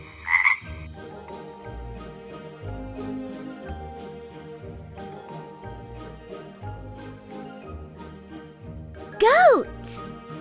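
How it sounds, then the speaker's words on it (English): A frog croaking in a playful animal-sounds phone call, with a melodic background tune running under it and a bright chime near the end. "Frog."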